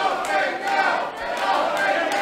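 A wrestling show audience in Kiel cheering and shouting, a steady crowd roar with voices talking over it.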